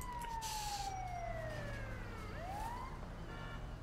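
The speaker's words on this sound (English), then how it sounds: "I hear it's the ambulance" A wailing ambulance siren in the video game GTA V sweeps down and back up in pitch, fairly faint, over a low steady hum of traffic or engine noise.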